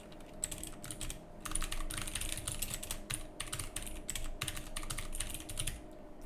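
Continuous quick typing on a computer keyboard, dense irregular key clicks in short runs with brief pauses, faint and close, with no voices.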